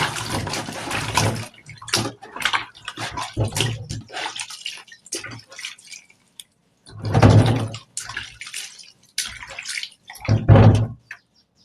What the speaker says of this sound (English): Let me wash the plantain.